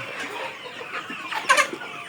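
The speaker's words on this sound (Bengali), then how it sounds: "এটা হচ্ছে অরিজিনাল সিপিএফ থ্রি মুরগি মানে অর্থাৎ টাইগার মুরগি" A CPF 3 broiler chicken, known as a tiger chicken, gives a short, close cluck, a brief burst of clucking over faint background noise.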